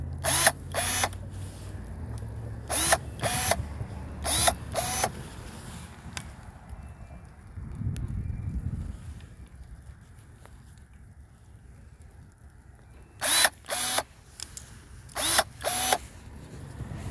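Pruning shears cutting butterfly bush branches outdoors, the snips coming in quick clusters of two or three sharp cuts separated by pauses, with a low rustle of branches in between.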